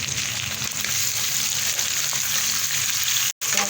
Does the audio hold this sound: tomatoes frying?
yes